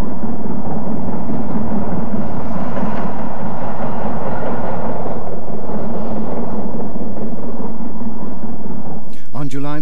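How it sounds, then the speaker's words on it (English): Steam locomotive 73089 hauls an up train on the Waterloo to Woking main line. A loud, continuous heavy rumble and rolling clatter dominates, ending with a brief higher tone. "73089 hauls an up train displaying lamps,"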